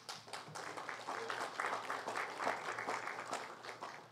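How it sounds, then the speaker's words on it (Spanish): Steady applause from an audience welcoming a speaker at the opening of a formal legal lecture event, a dense, continuous patter of many hands clapping at moderate level throughout. "a quien recibimos con un fuerte aplauso."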